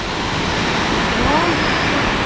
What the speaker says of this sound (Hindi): ऐसे पानी गिर रहा है